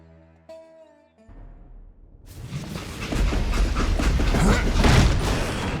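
Train in the video game Call of Juarez Gunslinger. A few brief tones give way to a swelling rumble of rolling, creaking clatter that grows loud and dense.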